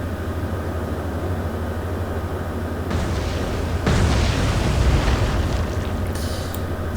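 Torpedo hits exploding against a ship in the naval game Atlantic Fleet, two heavy booms that rise over a steady rumbling engine bed, the second louder and longer with a rolling tail.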